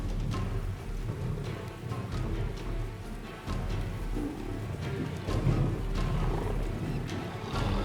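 Lions in a pride mobbing a lioness over food growl and snarl in deep, rumbling bursts that overlap continuously, loud and close, with rough scuffling noise throughout.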